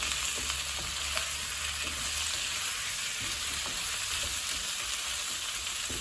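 Chicken and potatoes sautéing in a pan for a Jaffna chicken curry: a steady, close sizzle and hiss of frying with occasional soft scrapes and knocks of stirring, continuous throughout with no talking.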